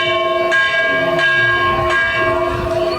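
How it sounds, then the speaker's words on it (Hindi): Temple bells ring repeatedly as people strike them, loud metallic clangs with long sustained ringing tones, struck about every half-second to second, with the ringing overlapping throughout. "देखिए सारे लोग घंटा बजा रहे हैं"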